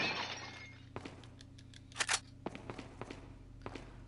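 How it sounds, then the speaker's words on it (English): Heavy footsteps in the video game Resident Evil 4, a series of sharp, uneven steps with a couple of louder clattering hits, faint over a steady low game hum. "That's some loud footsteps?"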